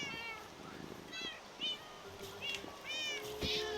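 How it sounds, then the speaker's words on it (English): A cat meows repeatedly in Minecraft after being struck, with several short, clear, close mews in a row over faint background noise, no talking. "Oh, sorry, I didn't mean to hit the cat."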